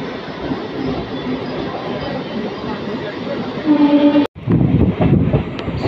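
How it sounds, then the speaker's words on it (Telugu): Kakinada Port to Vijayawada MEMU express train in the early morning, running out of Dwarapudi toward Rajahmundry: a steady, loud rolling rumble with wheel noise, heard from inside. It cuts out briefly near the end, then resumes heavier. "సో మన ట్రైన్ అయితే ద్వారపూడి నుండి అయితే బయలుదేరిపోయింది"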